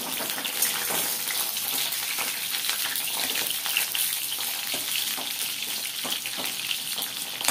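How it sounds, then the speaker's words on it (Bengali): Pointed gourd (potol), about 250 grams, frying in hot oil over lowered gas, a steady close crackling sizzle with scattered pops throughout, no voices. "আমি পটলটাকে ভেজে"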